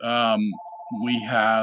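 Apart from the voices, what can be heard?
phone ringing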